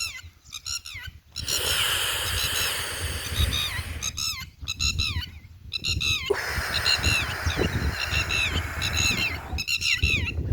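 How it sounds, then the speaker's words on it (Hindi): Red-wattled lapwing giving loud, repeated squawking alarm calls in bursts, close by outdoors, over a steady background of breeze and other birds. "शायद ये टिटहरी चिड़िया है, इसके अंडे रखे होंगे, इसीलिए किसी भी जानवर या जो उसको नुकसान पहुंचा सकता है उसको भगाने के लिए लगातार चिल्लाती रहती है।"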